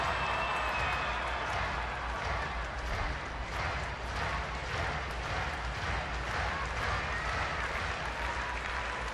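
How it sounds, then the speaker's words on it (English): A ballpark crowd at a baseball game claps steadily and at a distance, forming a dense, even wash of applause that lasts throughout. "Crowd starting to clap."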